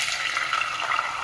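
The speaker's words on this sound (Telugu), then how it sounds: "వేగింది కదండి, ఇందులో నీళ్లు పోస్తామండి" Water poured into a hot pan of fried rice grits, giving a short hissing sizzle that stays steady and close for just over a second, with no talk.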